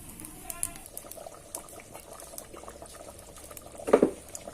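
Duck meat curry simmers in a clay pot, giving a soft, steady bubbling and crackle, faint and close, with a brief louder splash or clatter near the end.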